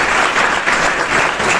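An audience at a Parbhani college event applauds to welcome the college supervisor, producing dense, steady clapping that fills the whole short stretch at close range.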